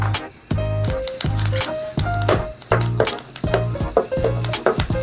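Crushed shallots and curry leaves sizzle in oil left over from frying chicken, a loud close crackle with repeated stirring scrapes and bursts of spattering in the pan.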